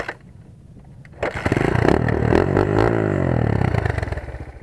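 Motorcycle with a nearly flat battery being started on a winter day: faint ticking and cranking, then the engine catches and runs with a loud, rough clattering idle.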